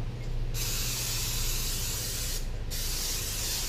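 An aerosol palm oil cooking spray hisses onto a tray in a long continuous burst, a brief break, then another steady spray, close and loud.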